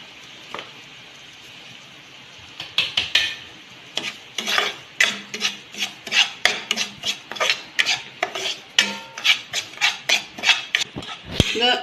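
A spoon scrapes and stirs semolina roasting in ghee in a pan, a steady run of quick rhythmic scraping strokes, close and fairly loud, starting after a quiet moment.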